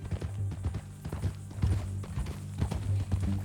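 Horse hooves clip-clop in Red Dead Redemption 2, a steady, close run of hoofbeats over a low, constant hum, with no talk over them.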